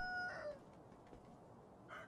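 Rooster crowing in a video game, a short burst of game crowing near the start with a brief fainter call near the end, over low background noise.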